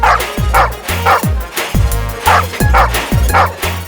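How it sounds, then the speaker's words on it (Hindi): A dog barks repeatedly up close, loud deep woofs coming in a steady rhythm of about six barks. "भौंक क्या रहा है?"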